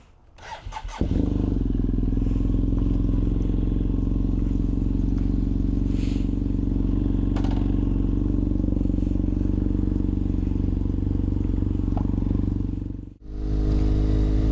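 A 2015 BMW F800R motorcycle starts up and idles steadily, a loud, close, even engine drone that cuts out briefly near the end before resuming.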